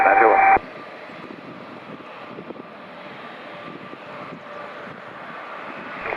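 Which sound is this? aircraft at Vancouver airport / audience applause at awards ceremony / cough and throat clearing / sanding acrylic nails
aircraft at Vancouver airport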